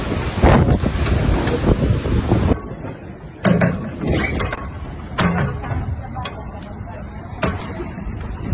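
Violent storm winds and high sea waves on the coast of southern Italy during Storm Harry: loud wind buffets the microphone over roaring, crashing surf, with sudden shifts between scenes.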